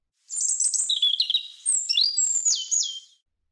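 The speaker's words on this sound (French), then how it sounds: "et oiseau." A small bird chirps and tweets in quick high bursts, two short phrases of bright warbling notes heard close and alone against silence.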